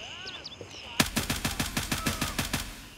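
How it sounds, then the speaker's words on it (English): Video-game firefight in Gray Zone Warfare: after a moment of distant chirping ambience, a rapid burst of about a dozen sharp, evenly spaced gunshots rings out close and loud, then trails off. "you guys act like we're not in a freaking firefight"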